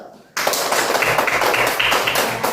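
A classroom of students bursts into hand clapping, a sudden loud, dense burst of many hands with a few rhythmic accents, close and filling the room.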